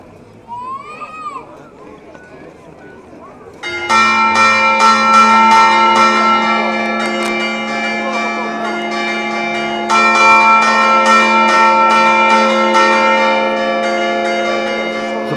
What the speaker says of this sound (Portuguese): Repicam os sinos da Igreja Matriz